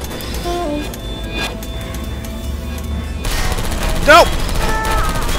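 Automated sentry turrets in the video game Portal Stories: Mel fire in rapid, dense bursts of crackling gunfire that run through the whole stretch amid game noise, while a voice shouts a short word near the end.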